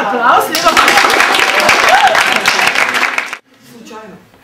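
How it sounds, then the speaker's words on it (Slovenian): Audience applause during a talk event, dense clapping from a crowd with cheerful voices mixed in for about three seconds, then it cuts off abruptly and quieter talk follows. "Dajte obema en aplavz"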